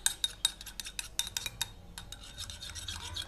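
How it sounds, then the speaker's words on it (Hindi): A spoon whisks yogurt in a bowl while a chicken tikka marinade is being prepared, giving quick, close metallic scrapes and clinks in uneven bursts that soften toward the end. No voices. "दही को हम चम्मच से हल्का सा फेंट लेंगे।"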